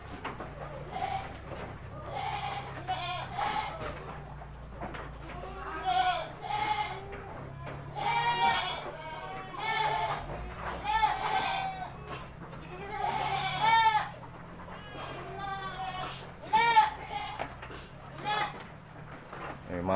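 Goats bleat repeatedly in a goat pen, several calls overlapping at close to middle distance, with someone talking between and over the bleats.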